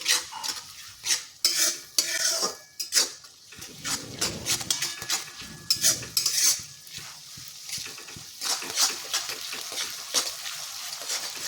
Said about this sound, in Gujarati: સરસ ડુંગળી અને આદુ લસણ મરચાને સરસ આપણે અહીંયા સાતરી લઈશું